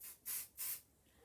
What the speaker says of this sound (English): Now, you know I love to use 505 spray, and I always spray the wadding as opposed to the fabric.